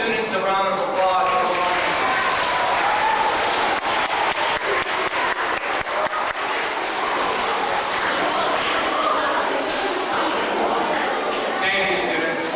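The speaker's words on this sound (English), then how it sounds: "Let's give all these students a round of applause." Audience applauding students at a community event in Sturgeon Falls, a loud, sustained burst of many hands clapping, with some voices mixed in.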